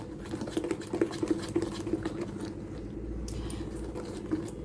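Batter for bitter gourd leaf fritters is stirred in a bowl, giving a steady, soft wet patter and light scraping that repeats rhythmically at close range, with no talking.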